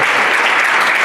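Audience applause for St. Mark's Little Messengers, a children's choir, a dense, steady wash of many hands clapping close by and filling the moment without a break.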